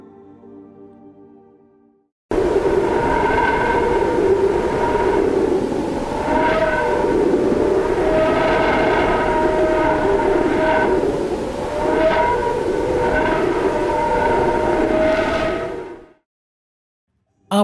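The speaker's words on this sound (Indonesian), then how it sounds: "suara siulan dan noise yang berisik merupakan tekanan dari gelombang panas elektromagnetik dan partikel yang disemburkan oleh matahari" A space probe recording of solar wind plasma: a steady, dense hissing roar with wavering whistling tones rising and falling over it, continuous for about fourteen seconds before cutting to silence.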